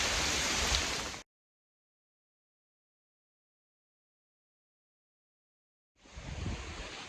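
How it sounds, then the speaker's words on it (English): Heavy rain shower pours down outdoors on a Dartmoor walk, a loud, steady wash of hiss that cuts to silence for several seconds and then returns just as dense. "It's just rubbish to walk through heavy downpours and constant rain."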